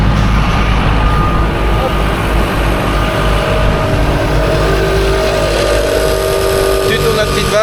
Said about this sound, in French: On accélère un peu.